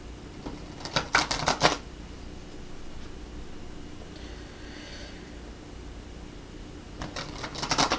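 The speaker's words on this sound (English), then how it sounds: "as we're shuffling these out, let me see if anything else wants to come through" A deck of tarot cards is shuffled close up in two quick riffling bursts, one near the start and one at the end, separated by a quiet stretch with faint room noise.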